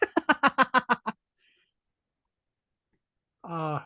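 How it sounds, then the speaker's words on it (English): Muppet chickens from The Muppet Christmas Carol give a quick run of about eight clucking, quacky calls, loud and close. A long silence follows, then one sustained honking squawk at the end. "The chickens."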